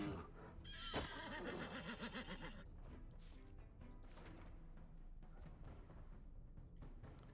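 A horse whinnies loudly in the video game Wartales over a bed of busy game-style noise, followed by scattered thuds and clatter; no one speaks.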